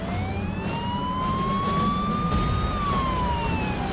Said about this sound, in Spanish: Pero entonces el coche se nos acercó y encendió la sirena.